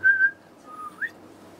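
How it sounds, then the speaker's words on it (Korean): A person whistles a few short notes: a clear held tone, a pause, then a lower note that slides upward, close and fairly loud against a quiet room. "휘파람 해보세요"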